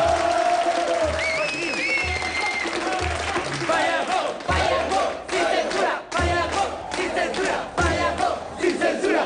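A crowd at a Chilean comedy show cheers, claps and shouts loudly together, rhythmic chanting of "Paya Hop" rising and falling, with whistles cutting through near the start.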